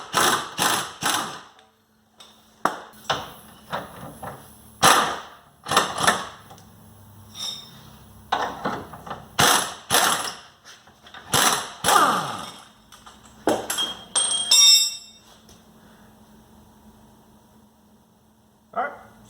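Impact wrench pulling a bolt on a Dana 30 front axle of a Jeep Cherokee XJ, a series of short sharp hammering bursts with quiet gaps between them, close and fairly loud.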